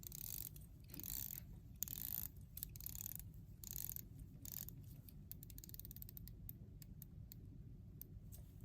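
Bezel of a Seiko SLGA009 diver watch being rotated, giving a dense run of small, quiet ratcheting clicks that speed up and thin out, close and alone without talk.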